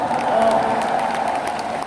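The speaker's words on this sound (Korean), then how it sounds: "박수 한번 주세요" An audience claps together in a broad, continuous wash of applause that holds steady at moderate loudness.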